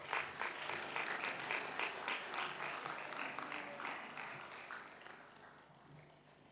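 Applause for new graduates at a university commencement ceremony, dense steady clapping from a large audience that holds strong and then gradually fades toward the end.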